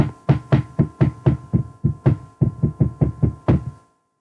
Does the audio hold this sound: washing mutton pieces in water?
no